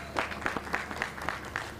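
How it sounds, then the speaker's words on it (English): Scattered applause from a small crowd at an outdoor Juneteenth flag-raising ceremony, a handful of distinct claps rising and falling over a soft background murmur. "Give that a round of applause"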